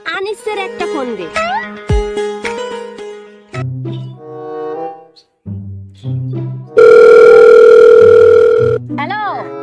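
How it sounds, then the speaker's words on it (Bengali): A telephone ringback tone plays as a call is placed: a steady, moderately loud electronic tone holds for about two seconds near the end, following a stretch of voices and melodic sounds. "একটা ফোন দে"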